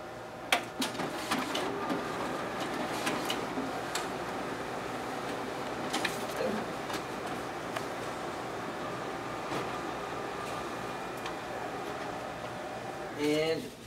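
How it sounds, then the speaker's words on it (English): A Ricoh MP C3001 copier's document feeder pulls two test copies through, giving a steady mechanical whir with rapid clicks and ticks, close by, ending in a brief rattling burst. "now we'll go ahead and test out the document feeder on this machine"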